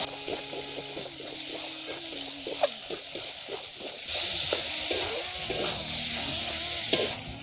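Chicken singara filling with tomato sizzles steadily in a hot pan while being stirred, with a scraping clatter of the spatula. The frying grows louder and denser partway through, and no one speaks.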